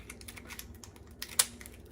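Kitchen shears snip through a lobster tail shell with small, close clicks and crunches that come in an irregular run. One sharper crack stands out near the end.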